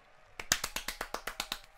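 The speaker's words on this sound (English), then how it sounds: "Oh, applause." Thin, evenly spaced clapping from a small group at the Samsung Galaxy S24 Unpacked launch event, about ten crisp, faint claps in a regular rhythm.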